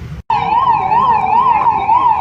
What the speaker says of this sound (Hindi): फायर ब्रिगेड आ गई भाई, फायर ब्रिगेड आ गई